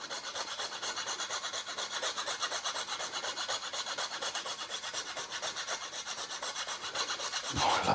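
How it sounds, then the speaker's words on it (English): Nutmeg rasped against a grater over a garlic scape tart, a steady rhythmic scraping of even strokes, close and alone throughout. "Now I want to give this a little grating of nutmeg."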